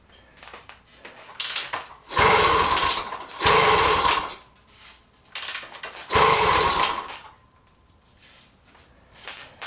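A 1977 Kawasaki mini dirt bike that won't start is kicked over again and again: three loud, rough mechanical bursts with quieter rattling gaps between them, and the engine never catches.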